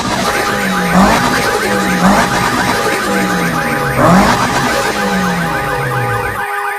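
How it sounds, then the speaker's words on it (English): A car alarm wails loudly and close by, a repeating electronic siren cycling in regular swoops about once a second, continuous until it cuts off abruptly at the end. "Your vehicle exhaust set off my car alarm"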